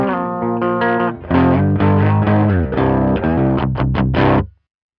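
Electric guitar played through a Line 6 POD Express on its Princeton amp model, with chorus-like modulation and mild grit, strumming sustained chords and single notes loudly for about four seconds before stopping abruptly.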